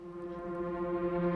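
A steady, sustained instrument tone with rich harmonics holds evenly throughout, a low droning note with no breaks or speech.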